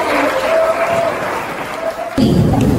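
Audience applause at a school event, the Mars Monday 2024 gathering at SMA Marsudirini Bekasi: a steady wash of clapping and crowd noise that swells louder near the end.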